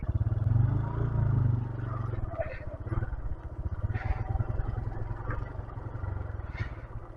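A 125cc motorcycle engine labours during an off-road ride on hill trails, a steady close rumble with clattering and scraping, loudest at the start and continuing under occasional voices.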